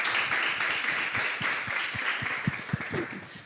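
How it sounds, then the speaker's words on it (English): Workshop participants give a round of applause at the end of a conference session. The clapping is moderate and scattered, heard over a steady room hum, with a few louder individual claps near the end. "So give yourselves all a round of applause."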